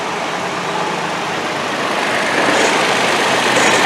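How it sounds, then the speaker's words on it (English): A Toyota Tacoma engine runs with the AC compressor engaged under the hood, giving a close, steady, hissy whirring hum that swells slightly louder partway through, with no talking. "right now we have the AC compressor on"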